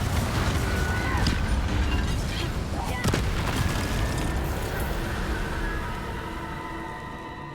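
Confringo blasting spells explode in Hogwarts Legacy, loud crackling blasts and booms layered over dense game music and effects, with a sharp crack near the middle before the din eases slightly at the end.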